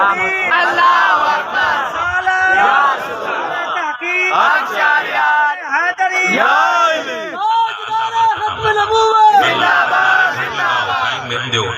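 A large crowd at a Sunni religious gathering shouts slogans in rhythmic unison, loud bursts of chanted voices answering a leader in repeated waves, close and sustained with brief pauses between calls.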